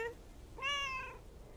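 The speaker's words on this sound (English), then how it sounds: "That sounds like the cat's cry for help." A cat in a video game, set in a small lake town, lets out one plaintive, drawn-out meow, clear and moderately close, following a quieter brief cry, with no speech.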